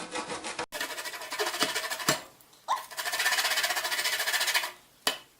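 Lemon zest being rubbed off on a grater, a steady close scratchy rasp in long continuous strokes with brief pauses between passes, no talking.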